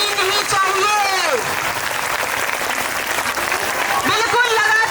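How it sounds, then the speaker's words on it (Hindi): Sustained applause from a crowd of Anganwadi workers at a sit-in protest at Eco Garden, Lucknow, running continuously beneath a loud amplified voice speaking over it. "बहनों बिल्कुल तालियां रुकनी नहीं चाहिए,"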